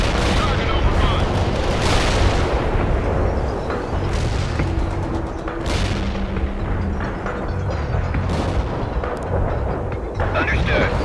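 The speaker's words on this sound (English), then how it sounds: "Artillery firing." Artillery firing in the World in Conflict game: repeated heavy booms and gunfire bursts over a constant loud battle rumble, several sharp blasts standing out, with voices speaking over the din.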